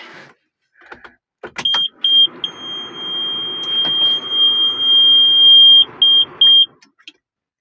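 A series of high electronic warning beeps from a John Deere 6610 tractor, a few quick ones then a long steady tone and a few more short beeps, over a low engine rumble.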